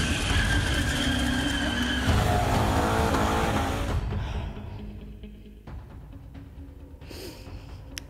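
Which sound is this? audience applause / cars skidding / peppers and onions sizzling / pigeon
cars skidding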